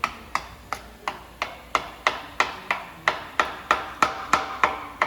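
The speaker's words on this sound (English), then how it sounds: "I'm going to use a hammer and a straight screwdriver." A hammer striking a flat screwdriver to break an engine seal loose on a Mazda Miata short block, about fifteen sharp metallic taps in a steady rhythm, close and clear with no talking.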